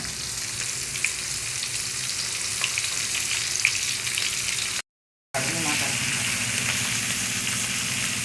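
Fish pieces coated in Bombay rava fry in hot oil, a loud, dense, continuous sizzle heard close up, broken only by a brief moment of silence.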